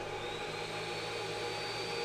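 A FOKOOS Odin-5 F3 3D printer's print cooling fan running at full 100% speed, a loud, steady whooshing whir with a constant tonal hum, sustained unchanged throughout with no voices.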